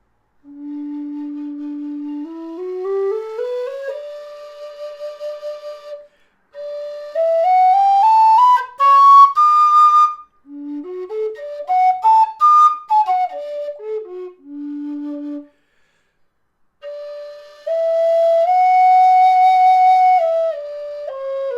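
A Kerry Chieftain V5 low D whistle plays slow rising and falling scale runs, clear breathy tones in sustained phrases separated by short silences, with no voice.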